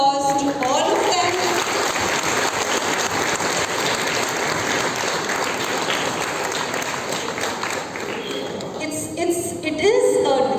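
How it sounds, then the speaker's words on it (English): An audience at a breast cancer awareness campaign launch applauds survivors, with sustained, dense clapping throughout and voices emerging near the end. "a big round of applause to all of them"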